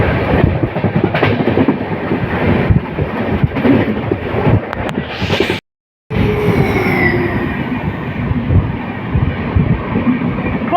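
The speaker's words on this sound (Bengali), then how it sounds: "ক্রসিং রাজধানী এক্সপ্রেস ডিব্রুগড় থেকে নিউ দিল্লি রাজধানী এক্সপ্রেস" The Rajdhani Express from Dibrugarh to New Delhi rushes loudly past at a station crossing, a close roar of wheels and clattering carriages with a brief cut before the rolling noise resumes.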